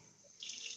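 Water starts running from a tap into a sink partway through, a steady hiss-like splash that sets in abruptly and continues at moderate level to the end, alone without voices.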